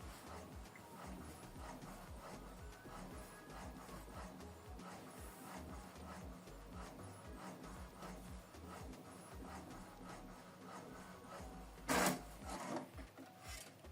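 An HP Deskjet printer printing a photo gives a steady, faint mechanical whir with rhythmic feed clicks throughout, then a louder brief clatter near the end.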